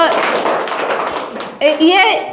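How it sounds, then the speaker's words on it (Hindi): Audience clapping at a Chahak Balvatika program for guardians trails off over a second or so, then a voice begins speaking once the applause fades. "ये ताली क्यों बजवाई"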